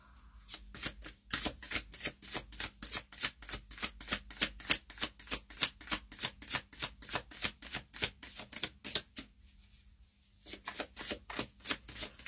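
A deck of tarot cards is shuffled over and over in quick, even riffles, each pass a crisp burst of flicking cards close by. A short pause comes near the end before the shuffling resumes.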